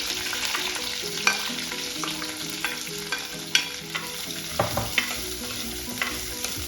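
Green chilies and onion fry in a pan with fenugreek, mustard and fennel seeds for an egg curry, a close, steady sizzle with repeated spatula scrapes and taps at irregular intervals and no speech.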